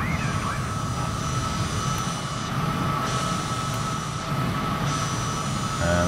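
An airliner's engines roar steadily and loudly during the takeoff roll in Microsoft Flight Simulator 2020, a continuous droning hum with no voices over it.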